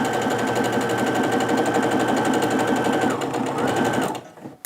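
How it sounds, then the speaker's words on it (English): A sewing machine runs steadily at close range, stitching a row of quilt pieces for about four seconds. Its motor gives an even rhythmic whir, then it stops abruptly, and no one speaks over it. "I'm going to go ahead and sew the rest of this row together"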